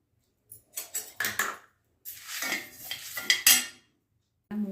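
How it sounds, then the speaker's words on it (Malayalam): Urad dal, black pepper and dried red chillies dry roasting in a pan, heard as intermittent scraping and clinking of a spoon stirring against the metal, in short bursts separated by pauses, close and fairly loud. "ഇതെല്ലാം നന്നായിട്ടൊന്ന് വറുത്തെടുക്കാം."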